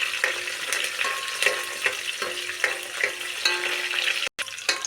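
Onions and curry leaves fry in hot oil for a fish curry, giving a steady, close, loud sizzle with scattered crackles and light stirring knocks throughout.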